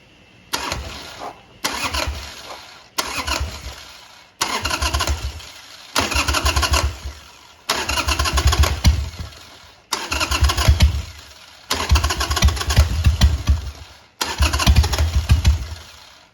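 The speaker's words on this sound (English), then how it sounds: "just gonna bump the starter and see if it'll suck a little fuel in there." A Harley Sportster's starter is bumped again and again with no choke, eight or so separate cranking bursts with the engine churning and nearly catching each time, loud and close with short pauses between.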